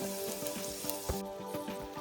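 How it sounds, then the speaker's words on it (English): Steady hot-oil sizzle of garlic and scallops in a frying pan, with soft clinks and scrapes of a utensil against the metal. "Now garlic cooking and sizzling, follow up by scallop"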